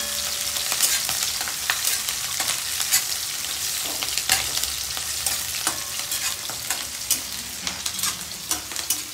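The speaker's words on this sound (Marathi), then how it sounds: "मिरची परतूपर्यंत मिरची एकदम डीप फ्राय करून घ्यायची" Green chillies deep frying in hot oil in a pan, a steady loud sizzle with stirring clatter and scraping throughout, close up with no talk.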